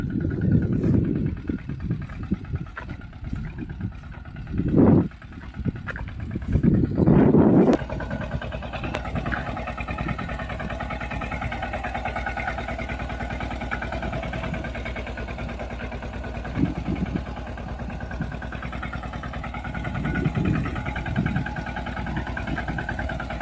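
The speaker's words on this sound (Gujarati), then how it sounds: "અહીંયા ટ્રેક્ટર રખાવીને તો હાલ હું તમને બતાવું જ્યાં હમણાં ટ્રેક્ટર હાલે" A tractor engine runs at a friend's farm field, a steady mid-pitched idling drone throughout, with a few louder bumps and knocks in the first eight seconds.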